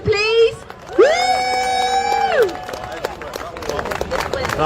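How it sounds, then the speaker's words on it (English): A crowd at an outdoor gathering in Parliament Square, London, cheers loudly; a long, rising whooping cheer rings out near the front, then breaks into scattered clapping and general crowd noise. "if we can have a massive round of applause for Peter, please."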